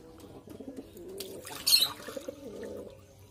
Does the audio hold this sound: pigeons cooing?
yes